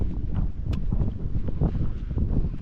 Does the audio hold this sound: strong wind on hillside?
yes